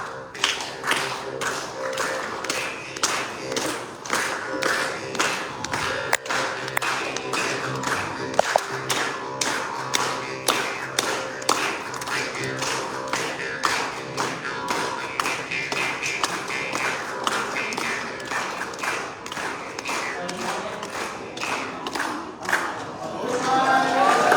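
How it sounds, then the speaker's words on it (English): A forum audience claps hands together in rhythm as music, producing a long run of sharp, fairly regular collective claps with crowd noise underneath, growing fuller near the end. "let's play music all together with this. Okay, just by clapping your hands."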